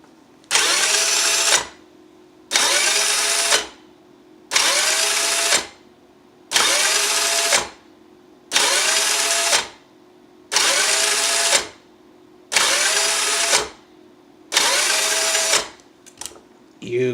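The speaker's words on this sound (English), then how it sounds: "this relay, which will cause this motor to move in pulsations" An Arduino-controlled, relay-driven motor on a wheeled robot pulses on and off, loud whirring bursts of about a second each separated by short silences, eight times in steady rhythm, with a faint clatter at the end.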